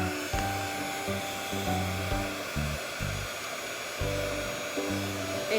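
A heat tool blows steadily on a damaged silk flower with a loud continuous airy whoosh. Its motor tone rises and dips rhythmically as the tool is moved around the petals.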